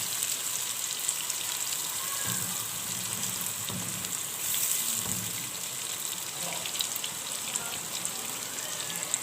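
Sliced onions sizzle in a pan while being fried to golden for a spinach and minced meat curry, a steady close frying hiss with occasional stirring scrapes and no voices.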